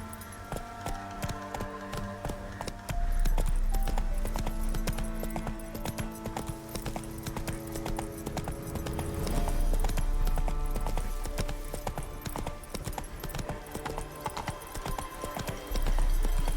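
Roach, Geralt's horse in The Witcher 3, gallops with a steady, loud clip-clop of hooves over game music, the hoofbeats surging stronger in bursts.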